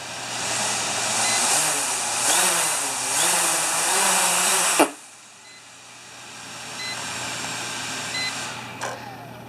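A Hubsan 501s drone with its propellers spinning, giving a steady high whirring hiss with tonal beeps, which drops off sharply halfway through to a quieter hum.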